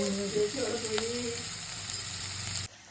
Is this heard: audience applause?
no